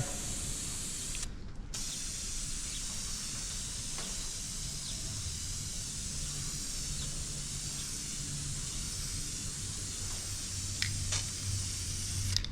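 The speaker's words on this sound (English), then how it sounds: "Kind of feels weird spray painting these door panels" Steady spray painting hiss on car door panels runs for the whole stretch, close and even, with a brief pause near the start and no talking.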